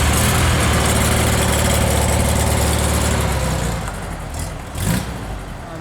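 A Porsche 356 engine running rough, loud and close, a steady low idle with uneven revving that drops off slightly toward the end, with a brief bump near the close.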